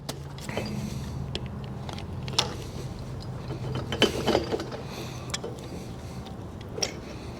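A metal spindle washer being worked off a trailer wheel hub, a few close, sharp metallic clicks and scrapes over a low background hum, with no talking.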